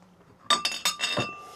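A genuine Modelo beer glass rings out in four quick, bright clinks as it is picked up and knocked against something, close and clear, each strike leaving a short sustained ring, with a duller knock at the end.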